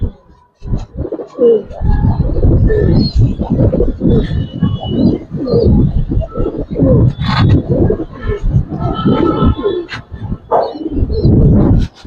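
Giribaz and colored pigeons at a farm coo in deep, repeated throaty calls close by. A dog-like bark and faint voices mix in now and then.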